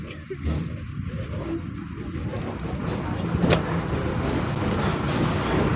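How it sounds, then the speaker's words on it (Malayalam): A KSRTC bus rounds a sharp hairpin bend on a forest road, its engine a steady low rumble that swells gradually, with a brief hiss near the middle and faint background noise throughout. "ആ ഹെയർ പിൻ ബെൻഡിലേക്ക് നമ്മുടെ ബസ് വളഞ്ഞു പോകും."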